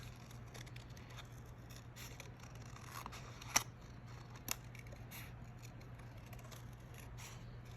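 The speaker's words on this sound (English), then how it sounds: "So for this one, I decided I was going to do some of that just outline cutting." Scissors snip paper along the outline of stamped letters, soft close cuts over a quiet steady hum, with one sharper clip standing out midway.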